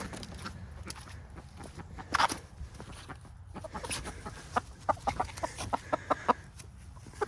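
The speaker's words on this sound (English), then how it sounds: "Oh man, you're a big little white chicken." Big white chicken clucking and squawking while being chased and caught, with rustling and footsteps nearby and a burst of sharp, close clucks toward the end.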